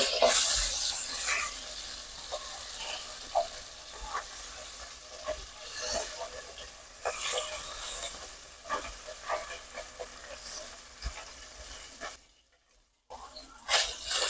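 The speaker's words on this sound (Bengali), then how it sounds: "মাছ ভাজা হয়ে গেছে" Oil sizzling steadily in a pan as tilapia fish fries, with scraping and stirring clatters throughout, briefly dropping out near the end.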